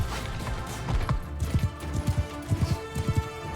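Rhythmic clip-clop of several horses' hooves pounding at a gallop in Mount and Blade Bannerlord, over a low rumbling background, the beats growing stronger and more regular.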